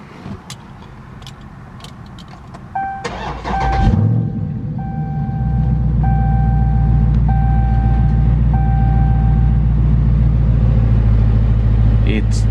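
A Dodge Challenger Scat Pack widebody engine cranks and fires up, then settles into a deep, loud, steady idle rumble, with chime tones from the car and someone talking nearby.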